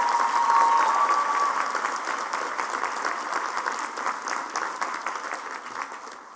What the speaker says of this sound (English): these applause from the stage are very much for you and your inspiring story and your inspiring words.